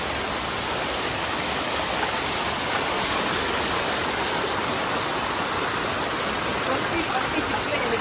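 Forest waterfall roaring as a loud, constant broadband rush of falling water, steady and close throughout with no letup.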